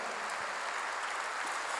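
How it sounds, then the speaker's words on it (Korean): A church congregation claps together in a steady, dense round of applause that fills the hall for a couple of seconds. "박수로 하나 돌리세요"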